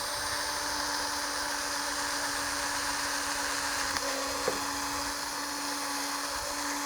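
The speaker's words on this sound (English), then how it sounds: "we're gonna take an 1/8 inch drill bit and we're just gonna go ahead and drill a hole on each of those" A small handheld drill with a 1/8 inch bit bores holes in plastic, giving a steady high whine that runs throughout with brief changes in pitch as the bit bites, close and with no talk.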